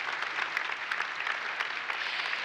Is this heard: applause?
yes